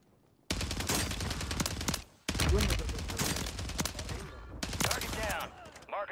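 Rapid bursts of gunfire in Warzone 3 on Rebirth Island, from an AMR 9 loadout among others, rattling loudly in long, dense volleys with short pauses between bursts.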